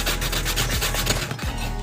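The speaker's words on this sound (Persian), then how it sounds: "خیلی نازک سنباده بزنید، یعنی انقدر سنباده بزنید که نازک بشه" Sandpaper rubs back and forth against a date pit, thinning it for a bracelet or necklace. Continuous rapid scratchy strokes sound close up and fairly loud, with no talking.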